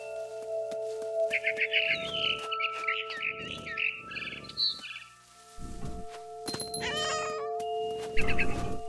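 A cat meows repeatedly in the video game What Remains of Edith Finch, with drawn-out, caterwauling cries over a steady game soundtrack, while bird chirps and tweets break in near the end.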